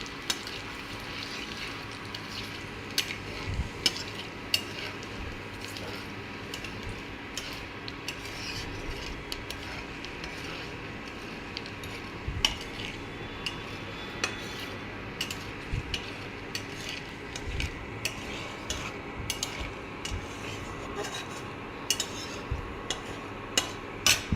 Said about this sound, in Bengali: তেজপাতাটা দিলাম ছিঁড়ে, এইটুকু জিরে দিলাম ফোড়ন। এবার এটা একটু ভেজে নিই।